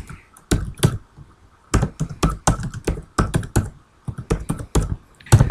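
Computer keyboard being typed on to enter a username and password, with close, crisp key clicks in quick bursts separated by short pauses.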